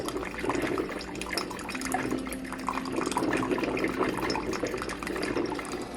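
A drip coffee maker near the end of its brew cycle trickles and splatters coffee, the liquid falling a long way, giving a steady, soft watery patter and gurgle that runs alone throughout.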